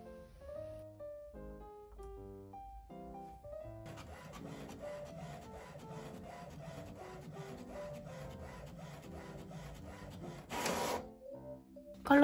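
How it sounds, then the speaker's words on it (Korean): A Samsung Ink Jet Plus S inkjet printer making a colour copy, its steady mechanical whirring and clicking paper feed running throughout, with a louder burst of motion near the end. "이것도 흑백 복사와 똑같이 올려놓고 닫은 다음에 컬러 복사 버튼 누르면 됩니다"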